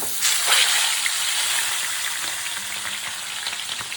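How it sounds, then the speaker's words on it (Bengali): Chicken pieces shallow-fry two at a time in hot oil, a loud, dense and constant sizzle heard up close with faint crackles throughout. "হালকা ফ্রাই করি দুটো করে ফ্রাই করবো চিকেন"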